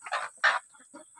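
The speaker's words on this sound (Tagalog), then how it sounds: "Yan po ang tandang po nito ay isa." A rooster on a farm gives a few short, close clucking calls in quick succession, with quieter clucks trailing off near the end.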